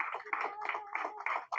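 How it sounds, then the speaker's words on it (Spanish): A church congregation claps together in a steady rhythm of bursts, close and fairly loud, with no voices rising above it. "Dale el aplauso al Señor."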